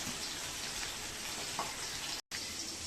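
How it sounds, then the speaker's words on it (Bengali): Fish frying in a pan gives off a steady, close, even sizzle with no speech, broken only by a brief dropout near the end. "প্রথমে মাছগুলো আমি ভেজে নিচ্ছি"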